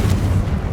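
A Confringo blasting spell detonates in the Hogwarts Legacy video game, a brief, loud, deep boom with a dense low rumble that fills the short moment without pause.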